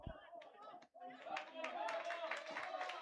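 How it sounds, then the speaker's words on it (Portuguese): Spectators clap for youth football players in under-11 and under-12 teams leaving the field, giving scattered, close applause at a moderate level with chatter and voices mixed in. "Os jogadores já vão saindo aqui, muito aplaudidos."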